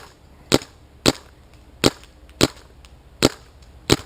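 A Planet Eclipse Etha 2 paintball marker fires six sharp, evenly spaced cracks, one roughly every half second, close and loud against a quiet background.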